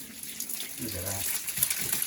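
Backed-up water gushes and drains through a blocked kitchen waste pipe clogged with fat and grease, a close, brief watery rush with a voice talking over part of it.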